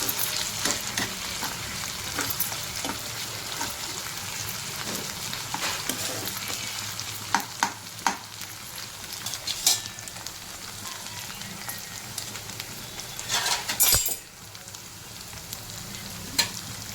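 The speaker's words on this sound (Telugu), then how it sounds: "కొంచెం వేగాలి అల్లం ఎల్లిగడ్డ పేస్ట్ కూడా." Ginger-garlic paste fries with spinach in a pan, a continuous close sizzle broken by intermittent stirring scrapes and a louder clatter late on, with no speech.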